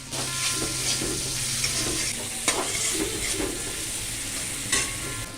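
Onions hit a pan of frying garlic and ginger in oil, giving a constant close sizzle punctuated by a few sharp spatula scrapes and taps.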